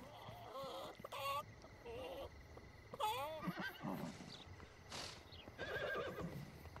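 A horse in The Sims 4 video game whinnies several times in quick succession, with clopping hooves and soft background sounds, fairly quiet overall.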